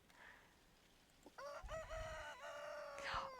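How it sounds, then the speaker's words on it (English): A rooster crows inside the video game Golden Treasure: The Great Green, one long rising and falling call that starts after a quiet pause and rings out clearly with no talk over it. "Oh my gosh, it's the rooster."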